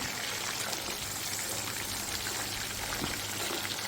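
Pieces of fish sizzle in hot oil while being fried Karachi style, a steady dense hiss and crackle that runs evenly throughout with no talking.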